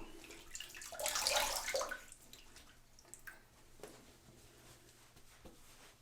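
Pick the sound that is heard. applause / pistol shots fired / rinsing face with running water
rinsing face with running water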